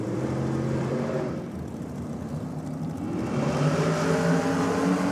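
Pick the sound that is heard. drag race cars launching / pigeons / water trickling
drag race cars launching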